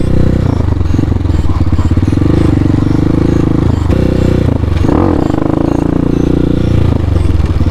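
A Honda Hawk 250 dirt bike engine runs loud and close on a dirt trail, holding a steady drone that dips and briefly rises in pitch as it shifts into second gear.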